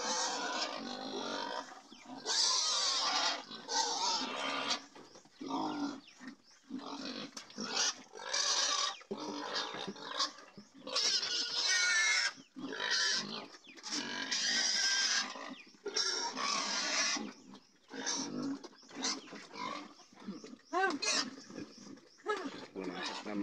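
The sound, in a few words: pigs oinking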